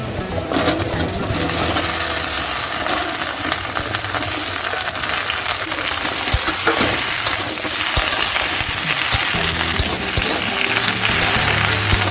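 Sliced onions fry in hot oil in a pan, a loud, steady sizzle and crackle that runs unbroken throughout, with a few faint stirring knocks.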